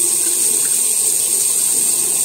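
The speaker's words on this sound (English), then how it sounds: "I'll hit them with some normal water." Water from a tap or hose rinses the motors of a racing quadcopter that crashed into a pond, a steady, close hissing spray running without a break.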